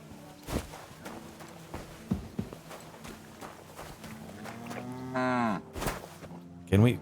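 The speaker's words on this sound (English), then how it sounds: "We cannot milk the cow." A cow lows in long, rising moos among farm livestock in Kingdom Come Deliverance 2, heard alongside scattered footsteps and thumps, with a final short moo at the end.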